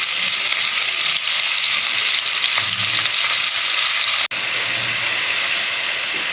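Broiler chicken pieces coated in turmeric and salt fry in hot oil, a loud, steady close-up sizzle that runs the whole time, briefly cut off for a split second before resuming, with no voices.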